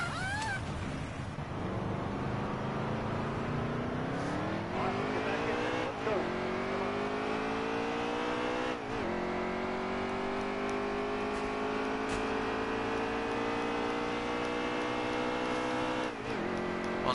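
A racing truck in a Martinsville practice session of a racing video game roars on a sustained engine note, repeatedly rising in pitch through the gears with brief dips between shifts, loud and continuous throughout.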